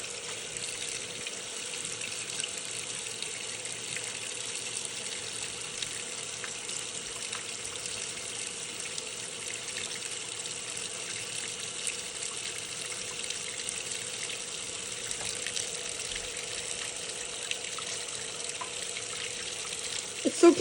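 An apartment washing machine fills with water, a steady, even hiss of running water that continues unbroken at moderate level, with a brief knock at the very end.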